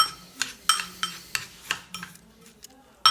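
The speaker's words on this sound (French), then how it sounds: "on mélange la crème de riz et la whey" Rice cream and whey protein powder being stirred together in a bowl, a spoon clinking and scraping against the sides in about ten quick, irregular strokes, close and moderately loud, with no talking.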